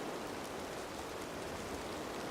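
Steady rain falls in the hunting game Way of the Hunter 2, a dense, even hiss of moderate loudness with no pauses.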